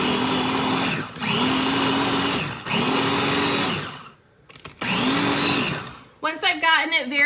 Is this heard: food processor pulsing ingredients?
yes